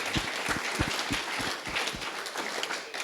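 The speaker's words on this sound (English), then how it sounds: "Let's have a round of applause for all of you here." Audience at the Surf Park Summit gives a round of applause, a continuous wash of many hands clapping with a few sharper nearby claps standing out, steady and moderately loud throughout.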